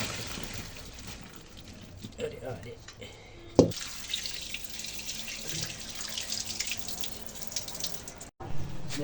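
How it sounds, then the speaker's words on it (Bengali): Water drained off pickled olives into a sink, a steady running, splashing wash with drips and a brief clunk partway, fairly close and moderate, with faint background sounds. "জল সরিয়ে নিছি"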